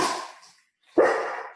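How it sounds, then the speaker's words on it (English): A dog barks twice in the background, each bark a sharp burst with a short fading tail, separated by a brief silence during a home yoga session. "We have some barking going on in the background"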